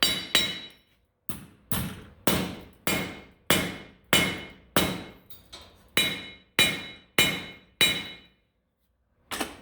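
A 3-pound hammer strikes scrap metal about a dozen times at a steady, deliberate pace, each sharp ringing blow decaying before the next.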